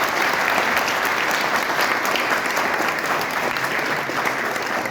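Applause from a school audience welcoming a mathematics teacher, sustained, dense clapping at an even level from start to finish.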